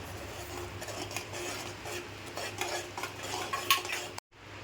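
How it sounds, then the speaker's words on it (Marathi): Ingredients for Malvani khaja being stirred in a pan with ginger and sesame, a spoon scraping and clinking against metal in busy bursts over a faint sizzle, ending in a sudden cut. "सगळ्या त्याच्यामध्ये टाकायच्या आणि व्यवस्थित ढवळून घ्यायचं"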